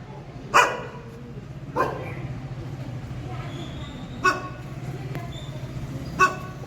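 A stray dog barks four separate times, sharp and fairly close, over a steady low rumble in the background, near a Hanuman temple in Wazirabad, Nanded.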